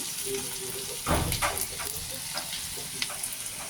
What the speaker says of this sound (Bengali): আমার পেঁয়াজটা ভাজা হয়ে গেছে প্রায়।